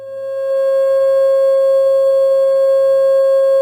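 A steady pure sine tone at 540 Hz, played as the pitch for a pentagon shape, fades in briefly then holds loud and unbroken with no talk over it.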